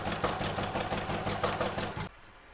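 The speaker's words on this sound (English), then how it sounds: "Pop it in my machine and stitch round number three to stitch it down." A sewing machine runs steadily, stitching a patch down on a crazy patch Christmas stocking, with a fast, even mechanical whir that holds for about two seconds and then cuts off abruptly.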